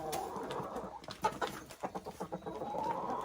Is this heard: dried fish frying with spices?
no